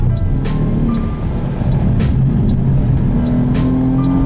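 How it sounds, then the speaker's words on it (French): A BMW M4 drives at speed on the 5.8 km Le Castellet race circuit, its engine a loud, continuous roar mixed with rushing wind and road noise, with no voices over it. "à bord de cette BMW M4"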